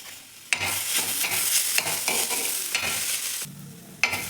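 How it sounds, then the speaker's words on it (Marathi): Potato and fenugreek vegetable stirred in a pan, with a steady sizzle broken by repeated scraping strokes at a fairly even rhythm, close and moderately loud, with no talking. "व्यवस्थित मिक्स करून घेऊ भाजी"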